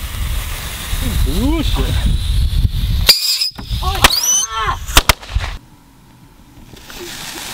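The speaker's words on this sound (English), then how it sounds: "And now we're gonna light this fidget spinner. And there's rockets on it." A lit fidget spinner firework fitted with small rockets whistles with rising and wavering shrieks, then gives off crackling hisses and several sharp bangs. Outdoor noise runs underneath, and a person briefly exclaims.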